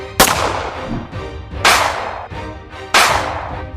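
Three sharp, loud gunshots spaced about a second and a half apart, each with a ringing echo that trails off, no voices.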